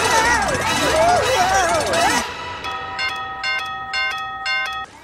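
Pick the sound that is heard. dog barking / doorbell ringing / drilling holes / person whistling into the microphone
doorbell ringing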